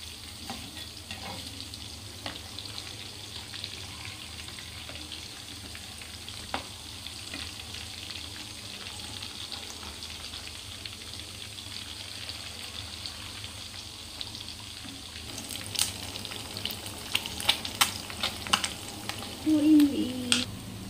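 Fish pieces deep frying in hot oil, a steady low sizzle and bubbling throughout, with louder crackles and pops toward the end, close by and without talk.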